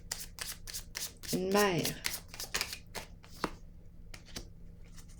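Tarot cards are shuffled and drawn, making a run of crisp, rapid riffling flicks and soft slaps, close up, with a brief spoken word in the middle.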